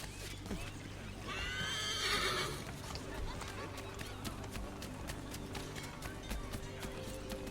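Horse in the video game Assassin's Creed III gives a loud, drawn-out whinny near the start, then steady clip-clopping hooves run on through the rest amid game ambience.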